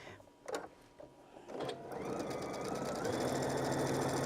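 A sewing machine stitches the seams of quilt triangle blocks: a few short clicks and bursts at first, then a steady, fast mechanical whirring hum of continuous sewing, with no voices.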